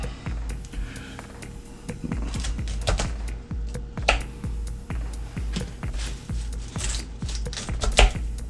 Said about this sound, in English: And we're just gonna cut the stalks off.